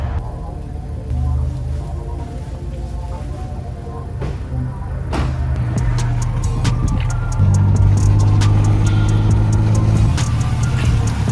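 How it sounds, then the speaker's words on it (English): A car pulls into a shop, its engine humming low and rising a little as it rolls closer, with scattered clicks and ticks from the garage around it. "Ricky's pulling in his car."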